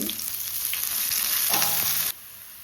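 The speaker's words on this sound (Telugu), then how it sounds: "ఇప్పుడు ఉల్లిపాయ ముక్కలు పచ్చిమిరపకాయ ముక్కలు వేసి కొంచెం లైట్గా వేస్తే సరిపోతుంది" Chopped onion and green chilli hit hot oil in a pan, giving a strong, even frying hiss that swells slightly and then drops off abruptly near the end.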